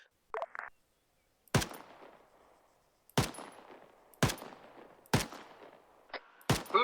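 Loud gunshots in a military video game ring out one at a time, five or six heavy reports spaced about a second apart, each followed by a decaying tail, with a brief radio-like burst at the start.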